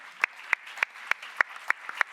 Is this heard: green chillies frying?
no